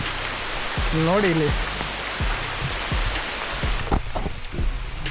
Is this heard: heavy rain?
yes